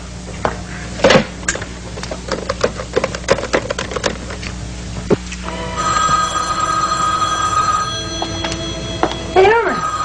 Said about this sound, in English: Irma, do me a favor, grab the phone.